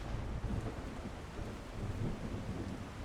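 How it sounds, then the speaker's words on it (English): Thunderstorm with rain in a sea-voyage video game: dense, even rainfall over a low, continuous rumble of thunder, fairly faint and steady throughout with no voices. "oh my, it is a stormy storm."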